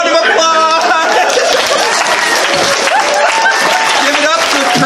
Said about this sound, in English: him a round of applause!